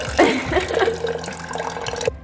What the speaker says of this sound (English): I'm going to get a water refill.